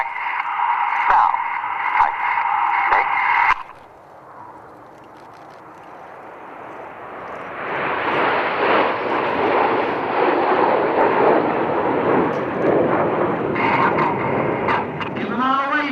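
Amplified commentary crackles over a loudspeaker at an air show. Then a Su-27 Flanker jet in a flying display roars in with a loud, broad, sustained rushing sound that keeps building as it passes.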